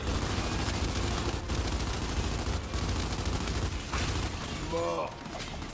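Gunfire in the video game Gears 5: dense, continuous bursts of automatic weapon fire and shots fill the scene loudly, ending with a brief mechanical click, with no clear speech over it.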